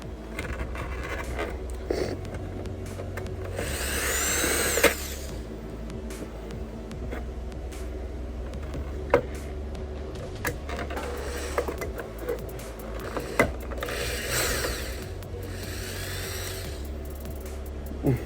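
Small metal T8 security screws being removed from a computer case, with faint repeated clicks, taps and light handling of parts over a steady low background hum, some brief rustling bursts, no talking.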